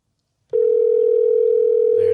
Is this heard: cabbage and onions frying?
no